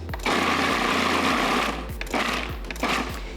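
Food processor pulsing cooked pumpkin with apple cider, a loud close motor roar in a few short bursts that chop and churn the mixture.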